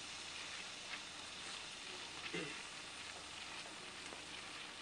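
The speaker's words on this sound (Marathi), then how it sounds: "गिलके चांगले परतून घेणार आहे तेलामध्ये" Steady, fairly soft sizzling of ridge gourd frying in hot oil with a cumin and mustard seed tempering, with occasional faint scrapes of stirring and no talking.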